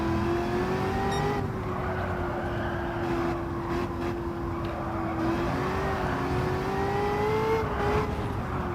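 Engine-swapped 1978 Pontiac Firebird with 600 horsepower and no aero, racing in Gran Turismo 7, its engine holding a steady loud drone that rises and falls slightly through gear changes, close and continuous without talk.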